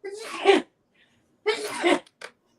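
Two sharp close sneezes in quick succession during a casual get-ready chat, each with a breathy wind-up and forceful burst, followed by a brief small exhale.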